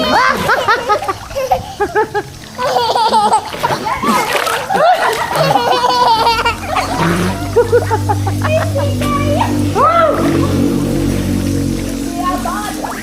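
Children splash into water from a slide at a birthday party, with bursts of splashing and sloshing water amid excited kids' voices, laughter and adult chatter throughout.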